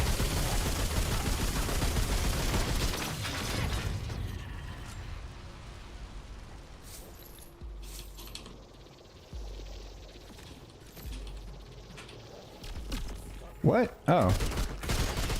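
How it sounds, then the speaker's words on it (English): Heavy gunfire in Remnant II, a loud dense burst of shots that fades after a few seconds into quieter sporadic firing and mechanical noise, with a couple of sharp bangs near the end and a brief spoken reaction. "Who else is shooting at me?"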